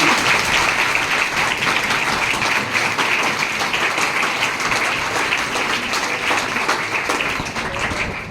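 An audience in Hoshiarpur claps in loud, dense, continuous applause that stays even throughout and fades only slightly at the close.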